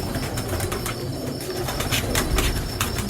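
Pigeons belonging to a champion breeder coo steadily in their loft, a dense low murmur of overlapping calls with occasional wing flutters and a constant hiss of background noise.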